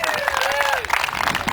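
A crowd at a rally applauding a speaker, a dense burst of clapping with some cheering voices throughout, close and loud.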